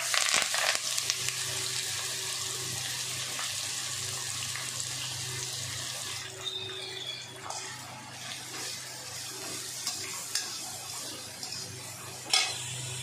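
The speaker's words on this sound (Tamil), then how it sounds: "வெங்காயம், பச்சை மிளகாய், கருவேப்பிலை எல்லாத்தையும் போட்டுக்கலாம்." Onions, green chillies and curry leaves fry in hot oil for a South Indian chicken feet gravy, a continuous loud sizzle with crackles and occasional stirring scrapes.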